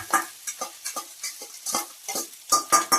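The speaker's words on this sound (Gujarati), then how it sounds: "હવે આપણે એને સારી રીતે મિક્સ કરી દઈએ" Boiled rice being stirred into tomato pulao in a pan, giving a run of close, rhythmic scraping and sizzling strokes, roughly one every half second, growing louder at the end.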